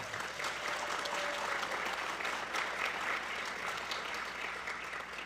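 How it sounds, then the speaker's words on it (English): A crowd applauds steadily, a dense even clatter of many hands clapping that holds for several seconds and then tapers slightly. "Give Chuck a round of applause."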